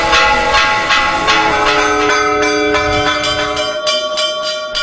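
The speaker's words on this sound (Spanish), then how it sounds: "Las campanas de las iglesias a lo largo y ancho del Salvador marcaron el momento." Church bells ringing in El Salvador, loud repeated metallic strikes with long ringing overtones that overlap and sustain, heard alone without talk.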